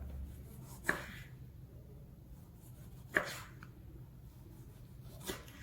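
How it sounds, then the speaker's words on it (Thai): Three sharp knife cuts through tomato land on a board at spaced intervals, with quiet kitchen background between them. "แล้วก็เราก็จะมาหั่นมะเขือเทศนะครับ"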